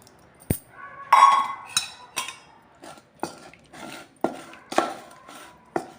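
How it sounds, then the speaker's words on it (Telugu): A spoon stirring curd into cooked rice for curd rice, heard as a run of sharp metallic clinks and scrapes against a steel vessel, irregularly spaced and close up, with no voices. "ఈ పెరుగును కూడా వేసి కలుపుదాం."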